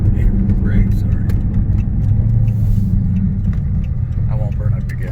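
A Dodge Charger fitted with a Badger tuner mod drives along, its engine and exhaust making a loud, steady, deep rumble throughout with no clear separate crackles; muffled voices may sit underneath.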